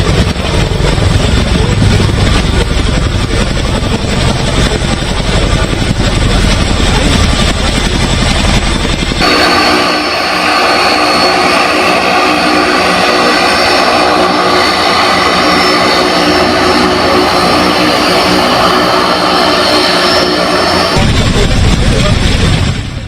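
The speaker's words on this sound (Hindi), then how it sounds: "चिनूक हेलीकॉप्टर उतार दिया गया है" A Chinook helicopter lands during flood relief where roads are washed out, its loud continuous rotor and engine roar filling the scene, with a voice speaking over it.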